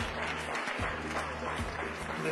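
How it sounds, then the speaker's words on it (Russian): An audience applauds steadily at a gathering honoring an Ossetian elder, the dense clapping continuous and fairly close, with a voice speaking over it. "Еще раз ваши аплодисменты нашему достойнейшему старшему."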